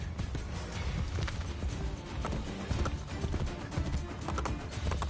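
A horse gallops in Assassin's Creed Brotherhood, with rapid rhythmic hoof clip-clops close up and a brief neigh.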